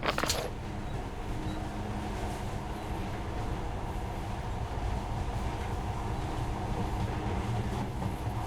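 Monorail train running in Metro: Last Light, a steady low rumble and rattle of rolling carriages, loud and continuous throughout after a brief sharp clack at the start, with no voices.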